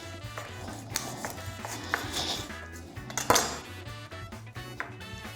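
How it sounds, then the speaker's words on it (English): Knife and metal tools clinking against a tray while BBQ chicken is cut into thigh and drumstick pieces, a run of irregular close taps, scrapes and pings with background music underneath. "I'm gonna use my knife, go down there, feel around."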